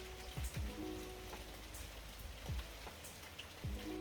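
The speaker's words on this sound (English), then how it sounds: "Guys, it's just started raining." Light rain begins falling outdoors, a soft steady patter of raindrops on surfaces with a few sharper drips and occasional low thumps through the quiet.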